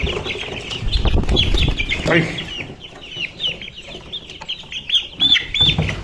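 Chickens cluck steadily through the clip, repeated close calls from a small flock of farm birds, with a brief spoken exclamation and background noise beneath.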